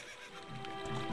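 Epona, the horse in Ocarina of Time, lets out a short neigh. It is a brief, fairly faint whinny with a light rising shimmer and no talk over it.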